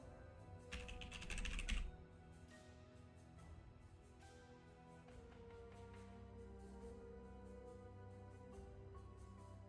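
Typing on a computer keyboard while entering a game name, a quiet run of rapid close-up keystrokes with a brief louder burst early on, then soft scattered clicks over low background hum.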